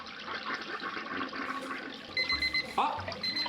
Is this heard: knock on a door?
no